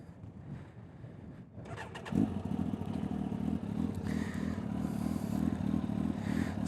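A Kawasaki ZX-12R motorcycle engine idles low, then catches and revs into a deep, steady rumble that stays loud and close with some mechanical clatter.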